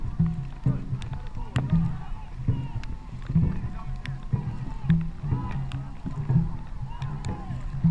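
A rowing crew pulls a boat through water in a steady, repeating stroke rhythm, with paddle splashes and thumps close by and voices calling out over the strokes.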